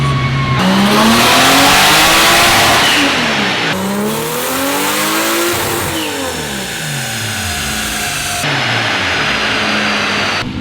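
A Nissan Skyline R34 with its boost turned up revs hard on a dyno, the engine sweeping up and down through several loud, close pulls with wavering harmonics and no talking.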